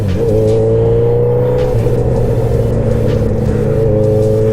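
A Suzuki Hayabusa motorcycle engine, the 2021 model, idles and revs very loud and close, a deep steady drone that rises slightly in pitch and holds.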